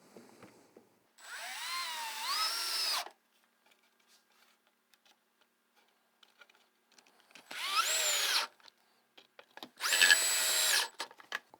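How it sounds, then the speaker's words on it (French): A power drill drives screws into the frame of a homemade dry toilet in three separate bursts, the motor whining and shifting pitch as each screw tightens, with quiet pauses between them. "et on visse."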